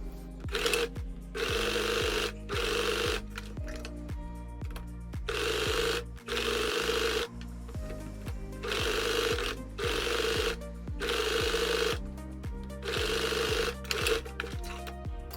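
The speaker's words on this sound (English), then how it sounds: "I'm going to overlock and stitch" An overlocker runs in repeated bursts along a fabric edge on a babydoll dress, loud rapid mechanical whirring that stops and restarts about a dozen times, with short pauses between runs and no talk.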